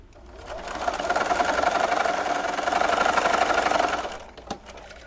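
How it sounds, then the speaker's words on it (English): A sewing machine stitching quilt block fabric, running as a steady, even whirr for several seconds before it stops and gives a single faint click. "we're going to just sew that one into place"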